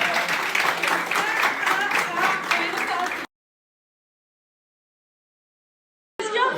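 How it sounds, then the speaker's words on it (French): Applause from a crowd at an elimination announcement, steady clapping for about three seconds that cuts off into silence before briefly returning at the end. "Applaudissements!"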